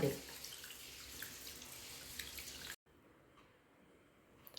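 Water splashes and trickles continuously as sorghum grains are rinsed in a vessel, fairly close and steady, then abruptly drops to a quieter, fainter wash of water for the last couple of seconds.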